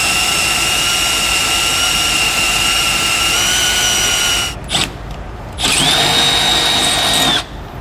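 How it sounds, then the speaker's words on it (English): A power drill whines steadily and loudly up close, boring through a 2018 Forest River travel trailer frame, briefly stopping and dropping out before spinning up again, then cutting off near the end. "Now we'll just drill it on out through."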